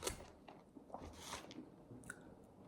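Close, quiet chewing of reheated delivery food, with soft wet bites and crunches repeating irregularly in an otherwise silent room.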